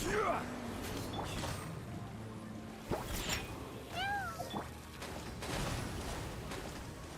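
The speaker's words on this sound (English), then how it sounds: "Meow." Cat meow from the game Genshin Impact, a short rising-falling call heard twice near the middle over busy game ambience, with speech and effects around it.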